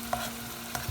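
Carbonara sauce being stirred in a frying pan, with a couple of faint scrapes against a soft, steady low sizzle and no voices.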